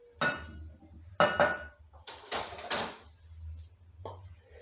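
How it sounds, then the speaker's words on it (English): A metal spoon clinks and scrapes against a bowl in several distinct strikes while mashed banana is scooped in for chocolate zucchini banana bread, close and fairly crisp with a low hum underneath. "now we're going to add the mashed banana. Use the spoon to scoop it in there."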